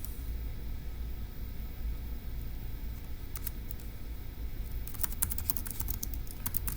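Computer keyboard typing, faint and sparse at first, then a quicker cluster of soft key clicks toward the end over a steady background hiss.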